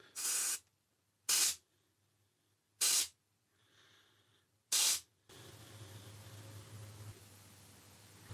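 A Daystate Wolverine air rifle is dry fired several times, each a sharp, loud burst of air spaced about a second apart. A steady, lower hiss of air released from the Huma regulator follows.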